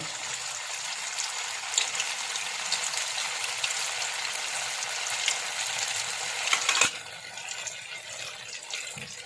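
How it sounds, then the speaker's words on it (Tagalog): Tofu frying in hot oil in a pan, a dense continuous sizzle with crackling that swells briefly then drops to a quieter hiss near the end, no voices. "So, ilalagay na natin yung piprituhing tokwa."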